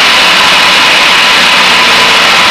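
A small airplane engine drones steadily and loudly from close by, heard from inside the cockpit as power is reduced to about 1,500 RPM, with a dense roar and no speech.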